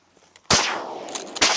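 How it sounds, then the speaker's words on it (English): A shotgun fires at ducks on a foggy Nebraska hunt, one loud close blast followed by a lingering tail, then a second shot just under a second later. "Shoot them."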